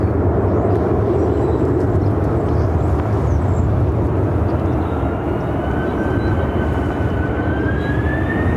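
A large jet takes off at Phoenix airport with a loud, sustained broadband engine roar, and a rising whine sweeps upward through the second half.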